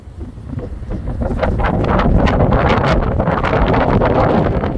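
Strong wind batters the microphone on the shore of Lake Meredith in Texas, a loud, continuous rushing roar that swells and gusts throughout.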